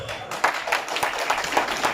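Scattered hand clapping from a small handful of people at a political welcome event in Lucknow, irregular claps sounding close over a dense background of crowd noise.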